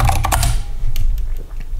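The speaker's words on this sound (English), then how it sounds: "You can just type in Translate Advanced," Fingers tap out a short burst on a computer keyboard, quick clustered clicks at first, then a few sparser key presses, close and fairly loud with no talking.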